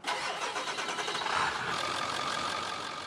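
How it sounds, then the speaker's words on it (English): A Ford 7.3 diesel truck engine in the Farming Simulator video game cranks and starts, then settles into a loud, steady rumbling idle with a rough, slightly angry tone. "I feel like you guys are really going to like the sound of this truck. It's got a little bit of a rumble to it."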